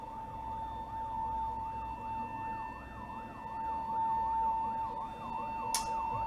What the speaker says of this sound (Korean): 어디서 사이렌 소리가 좀 들리는 것 같은데?